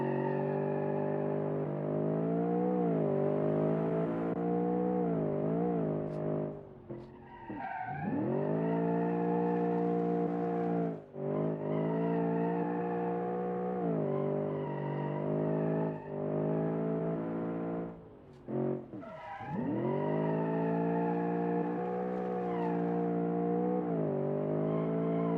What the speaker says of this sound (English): drifting limo indeed